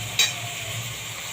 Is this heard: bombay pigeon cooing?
no